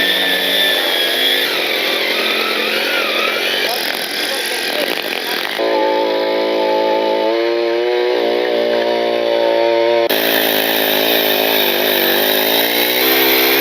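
A cheap petrol brush cutter with a Japanese carburettor runs loud and close, its engine whining steadily and shifting pitch as the throttle changes, with no pauses.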